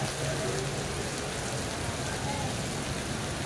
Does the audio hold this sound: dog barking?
no